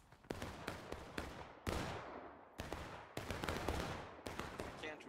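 Ragged musket volleys in the Civil War video game War of Rights, many shots cracking close together in several rolling bursts with short gaps, loud and near.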